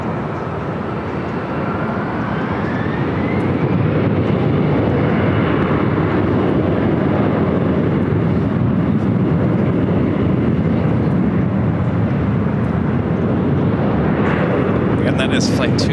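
An airliner arriving from Tokyo Haneda at Los Angeles airport roars steadily, its broad engine rumble swelling slightly and staying loud throughout.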